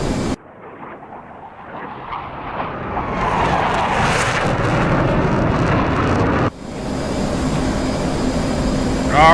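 An F-16 or F-18 jet engine in the DCS World flight simulator spools up as the throttle goes in, its loud, broad roar building steadily and then holding at a heavy, continuous rumble.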